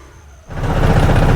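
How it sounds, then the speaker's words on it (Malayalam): A train approaching near Alappuzha, heard from an auto-rickshaw: after a quiet start, a loud broadband rumble rises suddenly and holds steady and close to the end. "ആ ട്രെയിൻ വരുന്നുണ്ടെന്ന് തോന്നുന്നു ഉച്ച കേൾക്കുന്നുണ്ട്"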